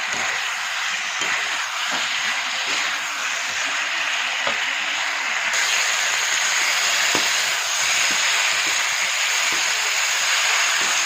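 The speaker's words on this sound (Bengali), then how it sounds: "5 মিনিট না ঢেকে এমনি লাড়াচাড়া করবো।" Fish with cauliflower and potato being stirred in a pan, giving a steady loud frying hiss with faint scattered scrapes and clicks of the spoon throughout.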